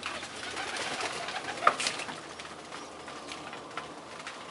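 Tippler pigeons in a training trap, with faint cooing and soft wing flutters over a steady ambient hiss, one brief sharp sound in the middle, no voices.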